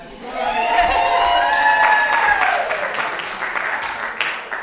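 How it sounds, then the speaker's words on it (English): An audience at a church talent show applauds and cheers, steady clapping that swells quickly and holds loud, with whoops and shouts rising through the middle before it gradually eases. "I was not allowed to get out of this night without cheering for you"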